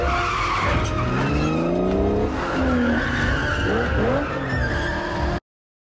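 A car in a Furious 7 scene with its engine revving and sweeping up in pitch over screeching tyres, loud and close, with several rising throttle pushes and no talk.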